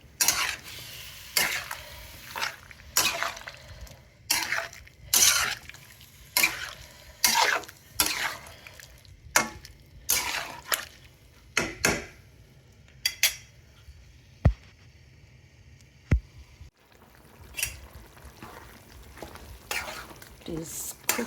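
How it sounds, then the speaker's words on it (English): Sour heirloom tomatoes cook down into a pickle in a pan over medium heat. Repeated sharp spatula scrapes and clanks strike the pan in an uneven rhythm over a faint, continuous low sizzle. "this needed to be cooked on medium heat for a while"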